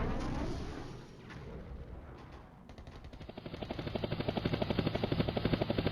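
Soviet Hind attack helicopters in the wargame Flashpoint Campaigns: Red Storm, a loud rotor drone with rumbling blasts that builds into a fast, steady thudding beat of blades growing nearer.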